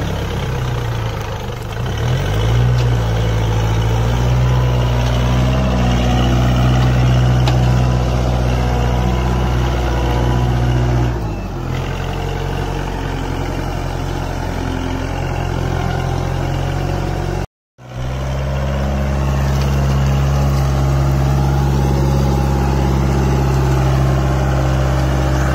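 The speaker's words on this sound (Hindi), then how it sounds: "बस अभी डिफरेंशियल लॉक दबाया हुआ है, दोनों टायर बराबर घूम रहे हैं भाई और ट्रैक्टर चल रहा है अभी" A 4x4 tractor engine running steadily in a wet, muddy field with the differential lock engaged, a loud, close, continuous low rumble that dips briefly near the middle.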